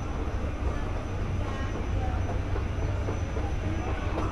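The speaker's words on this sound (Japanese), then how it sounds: "あ、もう電車は来てる。" A train stands at or rolls into a station platform in Málaga, Spain, giving a loud, steady rumble and hiss that fills the whole stretch, with faint voices mixed in.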